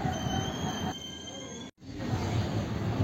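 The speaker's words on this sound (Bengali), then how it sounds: "ট্রেন কাটপাডি থেকে ছাড়লো চেন্নাইয়ের উদ্দেশ্যে।" A passenger train pulls out of Katpadi station bound for Chennai, heard from inside an AC chair car: high, sustained wheel squeals over a steady rolling rumble, broken by a brief cut, then the rumble continues.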